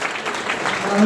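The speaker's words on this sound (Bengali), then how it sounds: "মন্ডল গ্রুপের জন্য একটা বড় হাততালি হোক" An audience at a university seminar applauds a guest company, a dense, steady wash of clapping from many hands in a hall, with a voice rising over it at the end.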